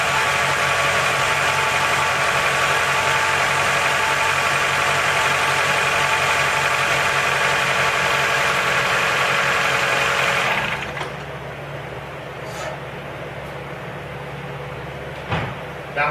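A 2010 Hyundai Accent engine idles steadily and loudly after start-up for about ten seconds, then shuts off, leaving quieter background noise and a couple of faint knocks.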